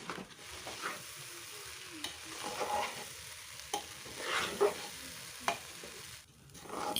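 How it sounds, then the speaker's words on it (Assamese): Rice for pulao being stirred and fried in a pot, a soft continuous sizzle broken by scraping stirs and a few sharper clinks of the spoon against the metal, close by with no one talking. "এতিয়া মই 15 মিনিটমান সময় চাউলখিনি এই ধৰণে ভালদৰে লৰাই ভাজি লম"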